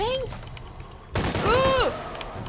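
Gunfire in the video game Shadow of the Tomb Raider: a loud burst of rapid shots cuts in partway through, with a shouted voice over it, following a quieter stretch with a brief cry.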